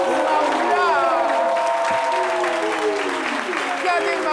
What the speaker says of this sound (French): Je vais demander de façon exceptionnelle à tout le public de se lever pour applaudir Kané Maoula.